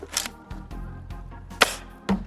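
A homemade Hot Dog Thunder launcher fires two-shot buckshot, with sharp, close cracks and pops at irregular intervals that stand out over a low background rumble.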